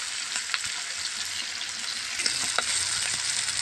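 Small hilsa fish frying in a pan over a clay stove, a steady close sizzle with occasional stirring scrapes and pops, no talk.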